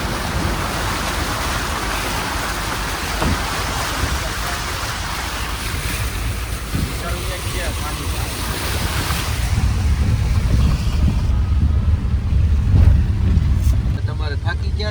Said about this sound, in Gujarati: જો આ બાજુ બધું નદી ચાલુ છે ને અહીંયા વરસાદ.